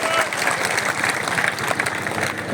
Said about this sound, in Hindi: जोरदार तालियां नंदलाल जी पूनिया के लिए